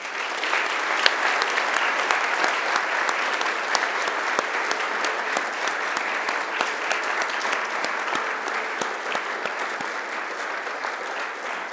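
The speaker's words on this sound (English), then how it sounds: "turn and face the families and friends who have joined you here today, and please give them a big round of applause." Graduates at a commencement ceremony turn and applaud their families and friends, a steady, full round of clapping from a large crowd that holds evenly for over ten seconds in a big room.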